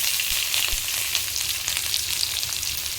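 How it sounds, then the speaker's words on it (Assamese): Onions fry with cinnamon, cardamom and cloves in a hot pan for a duck dry fry. A loud, steady sizzle hisses with a few soft stirring knocks, close up and uninterrupted. "গোল্ডেন ব্ৰাউন হোৱাৰলৈকে পিঁয়াজখিনি এনেদৰে লৰাই থাকিব"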